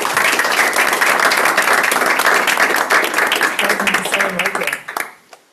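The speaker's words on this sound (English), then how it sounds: "Round of applause." Audience applause fills a River Edge, New Jersey mayor and council meeting: dense, steady clapping from a roomful of people with some talk mixed in, tapering off and fading to quiet near the end.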